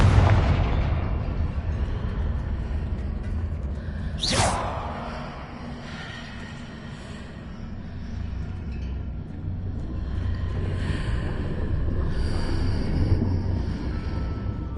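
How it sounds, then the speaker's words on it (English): A Confringo spell bursts in Hogwarts Legacy, a sharp whooshing blast near the middle that rings out and fades over a low rumbling game ambience, with nobody speaking. "What did that burst of magic do?"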